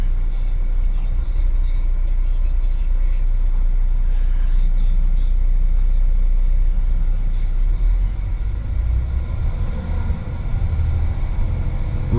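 Garbage truck driving its collection route, heard from inside the cab as a loud, steady engine rumble and road drone, with engine load rising slightly near the end.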